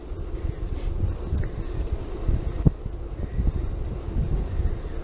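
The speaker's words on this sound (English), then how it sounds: "I don't know if the camera's picking up just how windy it is today, but it is fairly breezy." Strong, gusty wind buffeting the microphone during an electric bike ride on a windy day: a continuous low roar with steady rumble and no speech.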